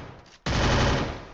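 Gunfire in the video game Free Fire, a short tap followed by a sudden loud sustained burst of rapid automatic shots, close and dense, fading slightly toward the end.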